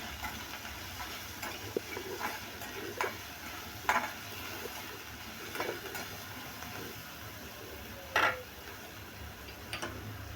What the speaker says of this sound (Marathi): मीठ घालायचं आहे आणि मिक्स करून घेऊया आपण